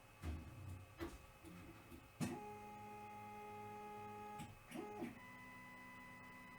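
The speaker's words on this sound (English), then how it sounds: "behind me the printer was doing its thing" A FlashForge Creator Pro 3D printer homing, its stepper motors whining in tonal bursts of rising and falling pitch, with a few sharp clicks and a steady hum underneath, no voices.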